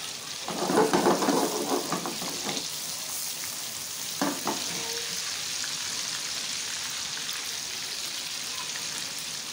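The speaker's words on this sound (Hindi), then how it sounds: "कबाब फ्राई होने दें। इसी कबाब के घी के अंदर हम इसका तड़का लगाएंगे" Beef kebabs sizzle and crackle in hot ghee, a steady frying hiss with a burst of stirring and clinking early on, close and continuous.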